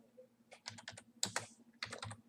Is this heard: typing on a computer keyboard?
yes